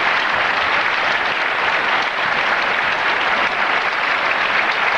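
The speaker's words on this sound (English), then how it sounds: "The handshake, standing ovation from our crowd here." A bowling tournament crowd gives a standing ovation, steady dense applause at full volume throughout with no voices over it.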